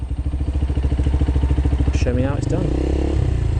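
A learner motorcycle engine during CBT training chugs in a fast regular pulse, then rises in pitch as revs come up and the clutch is eased, with a voice speaking over it.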